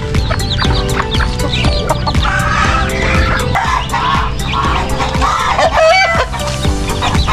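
Chickens clucking near newly hatched chicks kept in a cage, loud, close, continuous fowl chatter with frequent clucks, high chirps and a rooster-like call, no speech.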